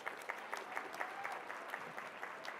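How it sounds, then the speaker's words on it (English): An audience at an infant mortality summit applauds the Mom's Helpline, a faint but steady crowd clapping with small, regular accents, somewhat distant and unbroken by talk. "So can I have a round of applause for the Mom's Helpline?"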